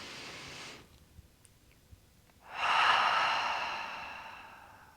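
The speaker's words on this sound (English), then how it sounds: "Let's get some extra oxygen in by taking a deep breath together." Slow, deep breaths taken close by: a soft exhale, a pause, then a long, airy inhale or sigh that swells and gradually fades.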